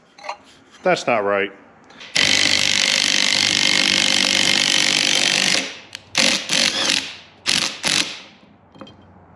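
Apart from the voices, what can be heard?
remanufactured water pump with bad bearings grinding when turned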